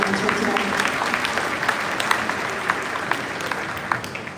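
Audience at a graduation ceremony applauding, a dense sustained clapping from a large crowd lasting throughout, with a voice over the sound system faintly underneath.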